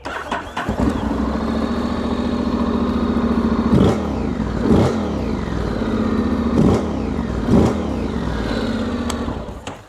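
A Honda X-ADV 750 scooter engine idles steadily with a low, even rumble, broken by a few short throttle blips that briefly rise in pitch.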